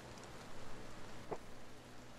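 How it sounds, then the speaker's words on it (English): Steady rain falling outdoors on a dull, all-day wet day, a soft continuous hiss of drops with one brief sharper patter, no voices. "it's raining"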